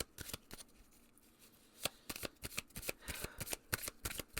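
Tarot cards being shuffled by hand in a quiet room, a run of crisp riffling slaps and flutters arriving in uneven bursts, close and fairly loud with no voice over them.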